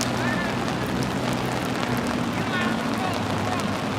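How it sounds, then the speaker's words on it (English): Heavy rain pounds an umbrella in a dense, continuous hiss and patter, steady and close, with people talking faintly beneath it. "this is the most serious rain this umbrella's ever seen"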